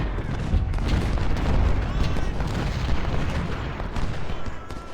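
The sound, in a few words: artillery and gunfire in video game Ultimate General: Civil War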